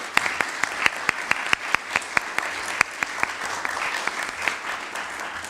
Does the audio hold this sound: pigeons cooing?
no